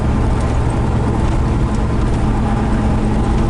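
A pickup truck cruises along a road on a test drive after a new thermostat was fitted, heard from inside the cab as a loud, steady engine drone mixed with road and tyre rumble.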